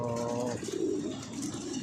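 Pigeons coo on a rooftop in low, soft, rounded calls close by, a few overlapping phrases repeating over a faint background.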